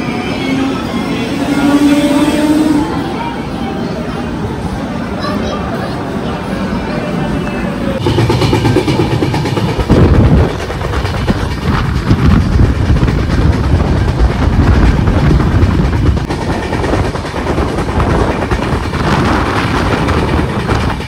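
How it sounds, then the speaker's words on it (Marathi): A train pulls into Kalyan Junction on a Nashik to LTT run, with continuous rumbling and rail clatter building and shifting throughout, fairly loud, with station and carriage noise around it. "आपली ट्रेन आता आलेली आहे कल्याण जंक्शनवर"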